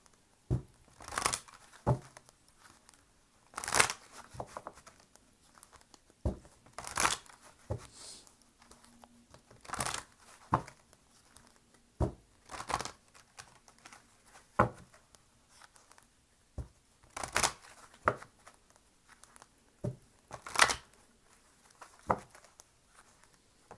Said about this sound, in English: let me go ahead and shuffle some angel cards.